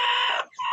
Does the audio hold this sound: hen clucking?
yes